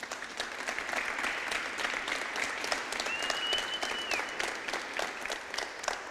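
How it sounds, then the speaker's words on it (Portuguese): Church congregation clapping together in a steady, sustained round of applause, fairly distant and even, with a faint murmur of voices underneath. "Só para uma salva de palmas para Jesus"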